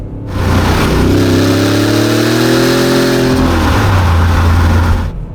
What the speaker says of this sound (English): I really do miss these old V8 lumps quite a bit.